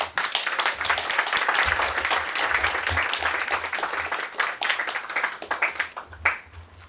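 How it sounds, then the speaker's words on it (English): A hearty round of audience clapping at a company anniversary celebration, steady and dense for several seconds before gradually thinning toward the end. "Let us welcome you with a hearty clap"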